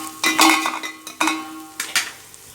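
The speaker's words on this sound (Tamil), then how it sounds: "எடுத்து வச்சுருக்கிற பச்சை மிளகாவை சேர்த்துக்கலாம். சேர்த்துட்டு ஒரு 2 கிண்டி விட்டுருங்க." Green chillies stirred in a metal cooking pot for chicken biryani, several loud close scrapes and clanks of a ladle against the pot over a faint sizzle, with no talking.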